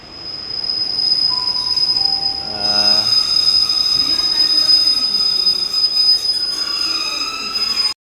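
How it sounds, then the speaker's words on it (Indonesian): A train pulls into a station in England on a route toward London, wheels squealing loudly and continuously as it rolls in close by, with a high-pitched tone held throughout. "ini kereta yang baru datang"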